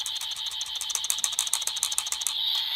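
A Kamen Rider Build DX RabbitTank Sparkling toy can is shaken close up, giving a quick rhythmic metallic rattle of about a dozen shakes, then a brief steady electronic tone at the end.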